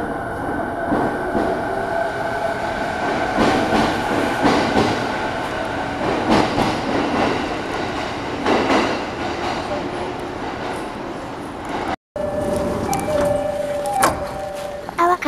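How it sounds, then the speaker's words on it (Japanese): A train on a Japanese railway line rumbles and clatters steadily as it pulls away from a station, with wheel squeals and metallic tones rising over the continuous rolling noise. "もうすぐ我々が乗ってる列車も発車します。"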